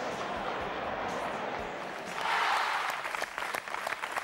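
A packed Stadio Olimpico crowd of around 80,000 applauds and cheers as Lothar Matthäus lifts the World Cup, a dense sustained roar of clapping that swells louder midway, with no talk over it.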